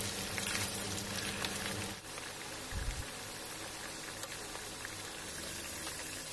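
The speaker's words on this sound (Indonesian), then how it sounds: "Tinggal kita goreng kentangnya sampai benar-benar mateng dan warnanya kecoklatan." Potatoes for bergedel fry in hot oil, a steady dense crackling sizzle and bubbling that runs close and continuous throughout, with no voices over it.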